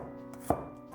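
One crisp knife cut through peeled garlic, slicing it thin on a cutting board while prepping a beef stir-fry, heard close and isolated over a quiet kitchen hum.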